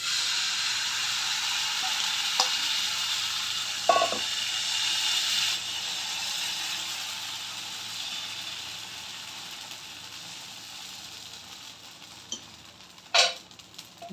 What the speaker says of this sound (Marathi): बॅटर टाकायचं आहे